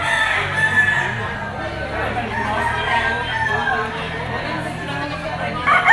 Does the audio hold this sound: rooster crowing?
yes